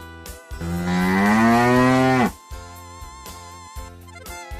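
Cow mooing once in a long, loud, drawn-out low call lasting about two seconds, then cutting off abruptly into steady background music with a regular beat.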